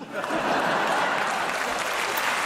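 A live audience breaks into a dense, sustained round of applause that holds steady throughout, loud and close, with a faint chuckle in the crowd.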